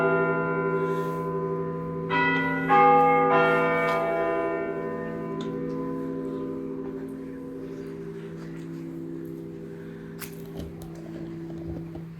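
Church bells ring out over Škofja Loka, several rich, sustained tolls with long overlapping resonance that slowly fade, heard from a distance in open air with no talking.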